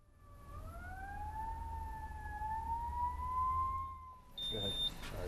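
Emergency vehicle sirens wail through a snowstorm, rising and falling in long steady glides at moderate distance, then a short high electronic beep sounds near the end.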